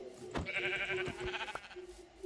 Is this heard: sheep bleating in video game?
yes